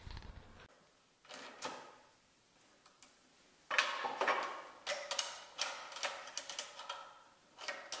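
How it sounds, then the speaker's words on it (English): Quick metallic ratcheting clicks come in short bursts, a socket wrench screwing a threaded insert into wood with brief pauses between runs, close and fairly crisp. "Now you can use a nut driver or a socket wrench to carefully screw in the threaded insert."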